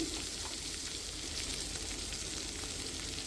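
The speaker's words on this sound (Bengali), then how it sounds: "দেখো একে একে সবগুলো আলুগুলো আমি দিয়ে দিয়েছি।" Potato pieces sizzle steadily as they fry in hot oil in a wok, a continuous close hiss with no talking.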